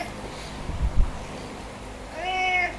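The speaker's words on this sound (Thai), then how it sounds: "แล้วก็จะมีแมวมาออกกำลังกายอยู่ข้าง" A cat lets out a short, fairly close meow near the end, following a couple of low thumps from people exercising nearby.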